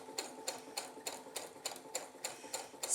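A sewing machine stitching along the edge of washaway stabilizer: faint, evenly spaced needle thumps in a steady rhythm, about three per second, with no talk.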